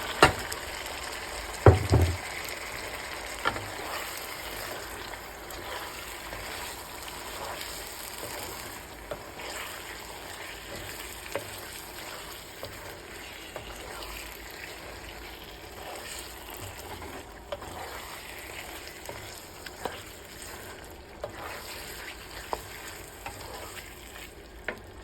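Chicken and masala sauté in a pan for biryani with a continuous soft sizzle. A few sharp utensil clinks come early, then intermittent stirring scrapes follow at moderate loudness.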